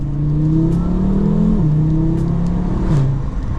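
An Audi RSQ3's five-cylinder engine revs close by, its warbling tone rising and dipping through a few short throttle blips over a steady rumble.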